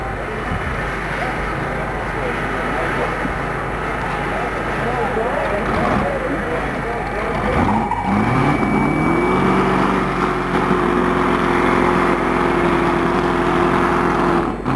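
A high-horsepower pulling tractor at a tractor pull revs its engine loudly and steadily, the drone rising in pitch partway through as it struggles for traction, with a commentator talking over it.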